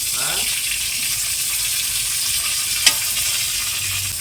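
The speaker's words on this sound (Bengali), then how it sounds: "এখন হচ্ছে বেগুন ভাজা চলছে আমার" Brinjal frying in plenty of oil in a home kitchen, a continuous close sizzle with stirring sounds and a single brief clink.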